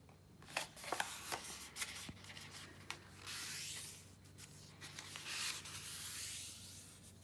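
Sheet of 11 by 11 inch celebration-themed designer series paper folded in half diagonally, with close, soft rubbing and sliding swishes and a few light taps as the crease is pressed along the fold.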